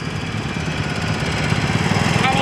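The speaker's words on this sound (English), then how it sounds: "Here we have a 1978 G12XL Boland lawnmower owned by Matt Baird" A 1978 Boland G12XL lawn mower engine runs steadily at an engine show, a close, loud, continuous chugging drone with fast rhythmic pulsing throughout.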